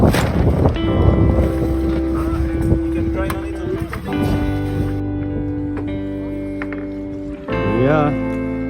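A Mini 6.50 racing sailboat tacks out of a harbour and across a bay, with a loud rush of wind and water under tonal rigging and engine-like hums.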